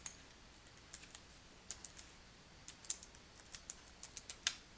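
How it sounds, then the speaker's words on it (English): Sparse clicks of someone typing a file name on a computer keyboard in a quiet room, with irregular keystrokes scattered across the span, some louder than others. "type a name for your PDF"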